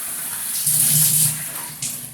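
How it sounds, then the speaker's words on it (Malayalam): Water pours from a cup onto jaggery being melted for tapioca halwa, a close, steady splashing gush lasting about two seconds. "അത് ഉരുകാൻ വേണ്ടി വെള്ളം ഒഴിക്കുകയാണ്."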